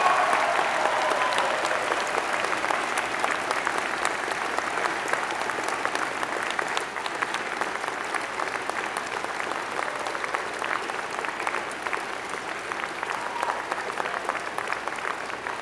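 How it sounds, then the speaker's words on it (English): Sustained, dense applause fills a large hall as friends and family cheer a graduating class at a spring 2015 university convocation, an even roar of many hands lasting about fifteen seconds. "I ask your friends and family to join me in applauding the amazing graduating class of June"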